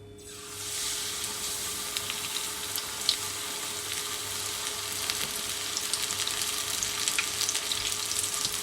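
Kakiage vegetable tempura fries in hot oil, a steady close-up sizzle with crackling pops and a few brief stirring clinks.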